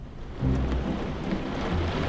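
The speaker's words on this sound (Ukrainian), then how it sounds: "Зараз вимкну дощ." Steady rain patters and hisses, a broad even wash of drops with a low rumble underneath.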